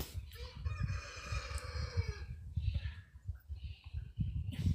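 A rooster gives a clear, fairly close crow lasting over a second, followed by shorter trailing calls and clucks over a low rumble of background noise.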